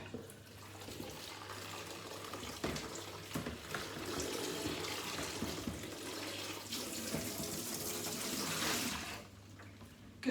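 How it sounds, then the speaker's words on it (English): Tap water runs steadily into a kitchen sink as a bowl is rinsed, a continuous close splashing wash with a few clunks of the bowl before the flow cuts off near the end. "Rinse this bowl out."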